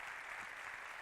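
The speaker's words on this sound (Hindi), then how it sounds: "So big hand for fathers ना." An auditorium audience claps for fathers during a motivational talk, a steady dense wash of applause throughout, fairly faint and distant.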